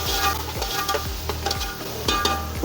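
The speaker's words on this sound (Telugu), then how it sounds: "మనం కొంచెం తరిగి పెట్టుకున్న ఒక టమాటా ముక్కలు ఇవి కూడా బాగా వేగేలాగా." Chopped tomato pieces fry in a pan for a fish curry, giving a steady sizzle broken by regular stirring scrapes about every half second, close and fairly loud with no talking.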